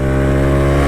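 A Suzuki Address 125cc scooter is held at full throttle, its engine a loud, steady, high-revving drone, close and unbroken for a brief moment.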